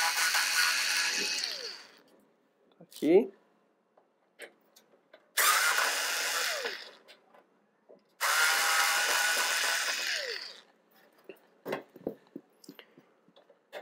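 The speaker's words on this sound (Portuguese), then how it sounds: "mas com a parafusadeira é mais rápido" An electric screwdriver whirring in three bursts as it backs out screws from a BitFenix Prodigy M PC case, close and buzzy, with small clicks and handling noises between runs and a brief spoken word.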